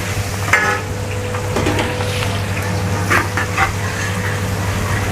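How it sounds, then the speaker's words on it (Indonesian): Garlic sizzling in hot frying oil in a pan, a steady close crackling hiss with occasional stirring scrapes and a low hum underneath. "biarkan terus jos dengan minyak yang panas"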